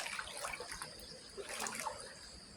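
Red floodwater from a forest flood spills into a Thai organic farm garden through a low spot in an earth embankment. It makes a faint, steady watery trickle and rush with small splashes throughout.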